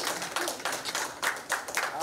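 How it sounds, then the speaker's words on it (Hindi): An audience claps for actress Shabana Azmi at an Urdu poetry album launch, with lively bursts of hand clapping that rise and fall over about two seconds and voices mixed in. "जोरदार तालियां फॉर शबाना आजमी जी"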